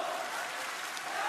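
Wrestling arena crowd at a WWE Raw event, a broad steady roar of cheering and applause filling the space, continuous and fairly loud without a break.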